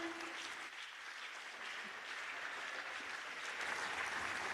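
Audience applause at an opening ceremony, fairly faint and distant, sustained clapping from a crowd that swells slightly toward the end.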